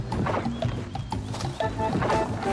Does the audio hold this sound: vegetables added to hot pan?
no